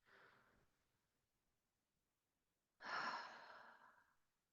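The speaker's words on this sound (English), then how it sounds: "Inviting a full breath into the lungs and a slow breath out." A person breathes slowly and deeply during a gentle yoga session, a faint exhale trailing off, then a pause and a fuller breath released softly and close by.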